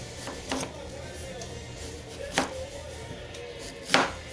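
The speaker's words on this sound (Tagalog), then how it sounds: "Hiwain lang natin siya ng maninipis guys." Knife cutting thin slices from a firm green unripe banana, three distinct crisp chops spaced a couple of seconds apart over a low steady background hum.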